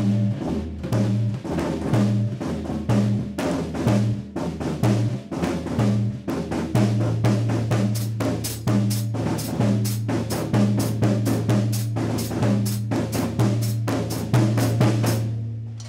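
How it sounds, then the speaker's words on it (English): Tuned bass drums in a Brazilian rhythm on a drum set, a steady repeating groove of deep pitched thumps with lighter cymbal and stick accents over it, played continuously and close. "they have tuned bass drums that sound something like this"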